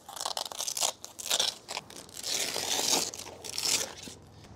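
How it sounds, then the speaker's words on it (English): Zipper and hook-and-loop fastener being pulled apart on an Agri-Cover Outlander soft truck topper panel, a run of close, ripping crackles and tearing bursts with no talk. "Now we just have to unzip this piece here and then take the hook and loop off the back."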